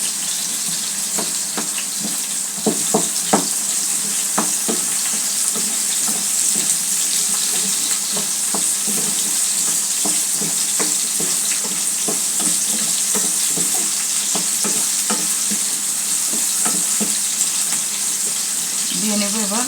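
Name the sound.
garlic frying in oil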